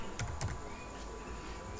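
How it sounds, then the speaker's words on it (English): Keys on a computer keyboard clack a few times while someone types a command at the command prompt, light and close against a steady background hum. "So as we finish typing,"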